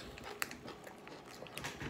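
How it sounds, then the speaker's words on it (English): Crunchy bites and chewing into a Swedish chocolate bar like a crunchy Three Musketeers, close and fairly quiet, with a sharp crack near the start and another toward the end amid soft mouth sounds. "a crunchy Three Musketeers is what it is."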